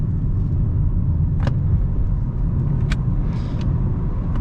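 Steady road rumble of a Nissan Sentra with CVT gearbox driving on twisty public roads, a continuous low drone with a few brief sharp clicks or knocks.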